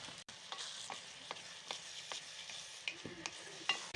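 Milk being stirred into carrot halwa in a pan, soft rhythmic scraping and wet stirring strokes over a faint sizzle, close but quiet, no talking.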